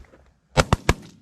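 Three sharp shotgun blasts ring out in quick succession during an early-season goose hunt from an A-frame blind in North Dakota, close and loud against a quiet background.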